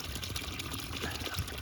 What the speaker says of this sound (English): That's some of the best flowing water I've seen